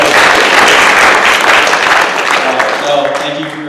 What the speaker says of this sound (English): give a big round of applause for Eric.